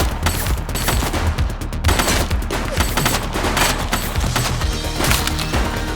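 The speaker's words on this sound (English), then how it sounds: "Shots fired!" Dense, loud gunfire from a suspect in the PC police game The Precinct: rapid overlapping shots and bursts crackle nonstop for six seconds with no pause.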